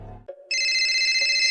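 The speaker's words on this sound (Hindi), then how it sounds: "उसके फोन की रिंग हुई" A phone rings with a bright, steady electronic trill that starts abruptly after a brief low rumble and keeps going without pause.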